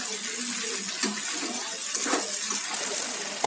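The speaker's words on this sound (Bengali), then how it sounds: "এবার আমি দিয়ে দেবো জল," Water pours into a pan of fried potatoes and spices on the stove, a loud steady rushing splash with bubbling sizzle underneath, lasting a few seconds.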